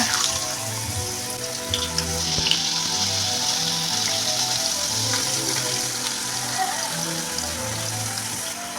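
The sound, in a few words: potato slices frying in hot oil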